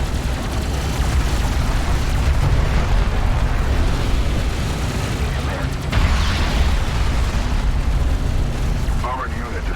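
An armored unit blowing up in the strategy game Deserts of Kharak: a loud, sustained roar of explosions and battle rumble that fills the whole stretch without letup.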